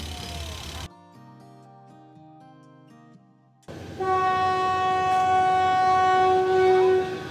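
A Death Railway train in Kanchanaburi, Thailand sounds a loud, sustained horn close by over steady rumbling, after a brief stretch of tonal music.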